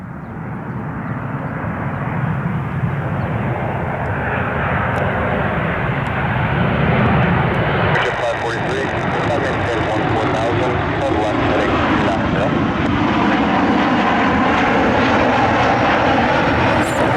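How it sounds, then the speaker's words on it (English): Southwest airliner inbound from Chicago Midway passing close overhead at an airport, a loud sustained engine roar that holds steady and swells slightly, with tower radio chatter faintly audible. "Southwest 2469 inbound from Chicago Midway"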